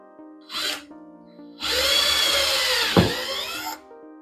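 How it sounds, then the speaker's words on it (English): A power drill whirs briefly, pauses, then runs again in a longer steady grinding burst as it bores through the plastic trim of an A90 Supra for a spoiler fitting, close and loud. "I'm about to drill through the plastics of the car now"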